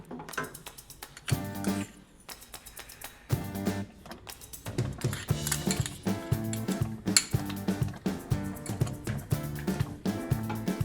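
Metal spoon scraping and clinking in a pan as beetroot halwa with ghee is stirred, a steady run of close, rhythmic scrapes and taps with brief pauses, no talking.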